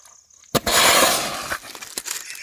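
A Diwali firecracker bomb bursts with one loud, sharp blast at close range, followed by a noisy crackling decay and smaller pops, with faint voices around it.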